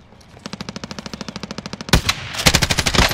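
Rapid automatic gunfire in a video game: a steady, evenly spaced burst of shots, then louder, sharper volleys overlapping toward the end, with no talk over them.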